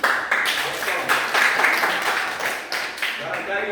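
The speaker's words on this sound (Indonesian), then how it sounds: "Ya, tepuk tangan." Classroom applause from students, a steady run of broadband clapping at moderate level, continuing for several seconds with slight swells.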